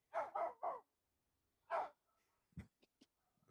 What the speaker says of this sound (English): Is this one barking at a chicken? This one's barking at me.